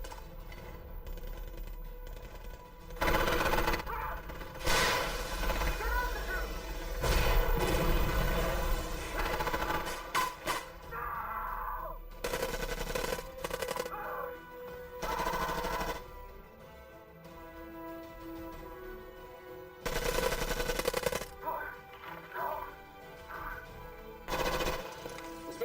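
Bursts of machine-gun cover fire in an action movie scene, coming in several loud stretches of rapid shots separated by short lulls, with gunfire and background action continuing throughout.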